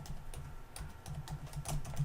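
Steady, rapid keystrokes on a computer keyboard while typing into a Zoom chat window, a close and continuous patter of light clicks with no voice over it.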